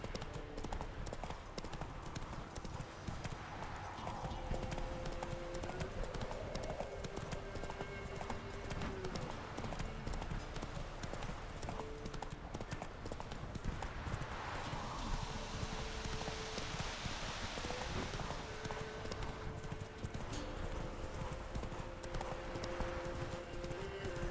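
Roach the horse trotting in The Witcher 3 on PS4, a steady rhythmic clip-clop of hooves continuing throughout over a constant outdoor ambience, with no voices.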